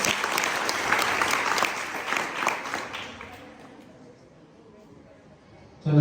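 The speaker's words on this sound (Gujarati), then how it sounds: "ટીમ સી માટે જોરદાર તાળી પાડી દો" Students and teachers at a school quiz competition clap loudly for team C, a dense burst of applause that thins out and dies away over a few seconds, leaving a quiet room before a sudden noise at the end.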